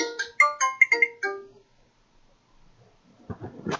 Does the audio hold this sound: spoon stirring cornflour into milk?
no